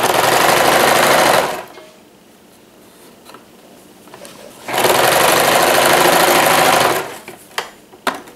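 Sewing machine stitching fabric for overlock and hidden seams, running loud in two steady bursts of about a second and a half and two seconds, with quiet handling noises in between.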